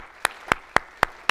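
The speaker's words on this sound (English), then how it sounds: "Can we all give God a hand clap of praise for saving us and getting us here today?" Five sharp single hand claps at an even, quick rhythm, close and clear, as a church congregation gives a clap of praise.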